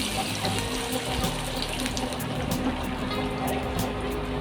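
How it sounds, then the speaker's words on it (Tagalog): Water pours steadily from a tap or into a cooking pan while preparing a Filipino vegetable stew with boiled meat, a continuous splashing stream with faint background clatter. "Now, maglalagay tayo ng konting tubig,"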